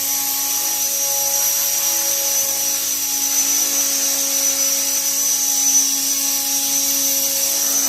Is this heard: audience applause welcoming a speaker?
no